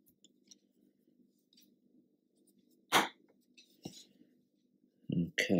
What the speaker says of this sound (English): I'm just going to cut that to length initially.